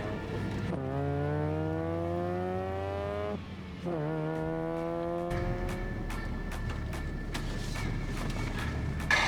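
A van drives and accelerates through the gears, its engine note climbing in pitch, dropping at each shift and climbing again. Later the engine sound is rougher, with rattling clicks over it, and it stays loud throughout.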